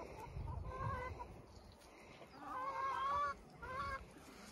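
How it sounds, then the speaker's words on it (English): Chickens close by, clucking and squawking as they gather expecting food, irregular nasal calls over a low rustling background, quiet and without speech. "They're chickens."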